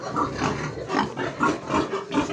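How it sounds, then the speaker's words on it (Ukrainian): Young pigs kept as replacement breeding gilts grunting on a farm, a close, steady stream of overlapping snorts and grunts from several animals in quick succession. "Отакі наші поросятка у нас вже залишилися на свиноматочку."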